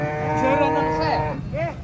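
A cow moos loudly and close at the Karanggede cattle market while cattle are unloaded from trucks, one long drawn-out low call followed by a shorter second moo.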